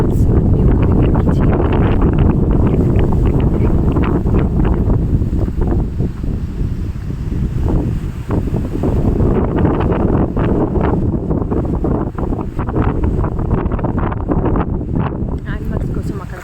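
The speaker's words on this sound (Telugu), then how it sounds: "వర్షం పడుతుంటుంది, గాలి వీస్తూ ఉంటుంది." Strong gusting wind roars loud and steady across the whole stretch in rainy, windy European weather, buffeting the microphone with broad low rumble and brief flutters.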